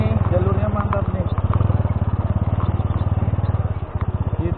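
A Honda mini motorcycle, a Pitung, rides off-road over a stony road with a steady, fast-pulsing engine putter running throughout. The bike sounds close and loud, with clattering from the rough surface and a voice talking over it.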